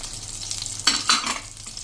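Garlic cloves drop into hot oil for a radish chutney, with a quiet background sizzle broken by a few short, sharp bursts of spattering and stirring near the end, and no voices.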